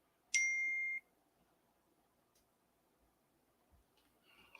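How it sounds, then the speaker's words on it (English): A phone gives one short, clear electronic notification chirp, a bright two-tone beep about half a second long, close and alone in a quiet room. "this phone is chirping too damn much, man."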